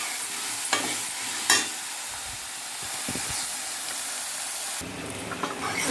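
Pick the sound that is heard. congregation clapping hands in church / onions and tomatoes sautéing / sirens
onions and tomatoes sautéing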